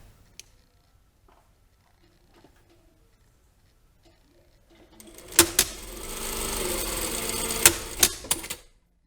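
A sewing machine stitches a lined jacket vent, starting after about five seconds of near quiet with small handling noises and then running steadily and close, with a few sharp clicks during the stitching.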